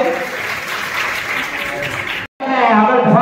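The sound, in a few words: audience applause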